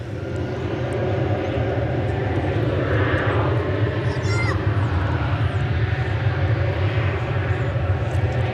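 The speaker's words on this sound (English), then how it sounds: "It's an Airbus A321." An Airbus A321 at DFW Airport roars steadily through its takeoff run, a loud sustained jet rumble with a broad engine hiss that holds from start to end, and voices talk faintly beneath it.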